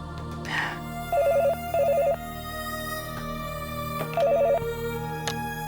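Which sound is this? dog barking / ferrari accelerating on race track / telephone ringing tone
telephone ringing tone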